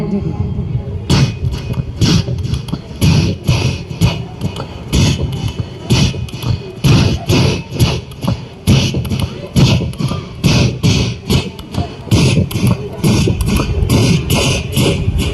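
A voice imitates a drum band, beating out a steady, driving rhythm of thumping hits that continues loudly throughout, with crowd noise beneath.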